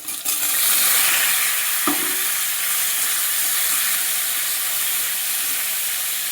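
Green bananas tipped into a hot frying pan for a vegetarian curry give a steady, close sizzle and hiss, with a brief clack of stirring near the start and no talking.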